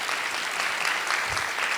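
Audience applause at the close of a student council and professors talk show at a university science and technology college festival, a steady dense clapping wash throughout.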